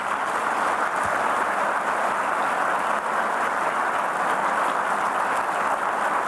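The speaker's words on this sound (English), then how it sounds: "a round of applause" Broad, steady audience applause at a public conversation event with a prime minister, a dense even clatter of clapping sustained for the whole stretch without pause or talk.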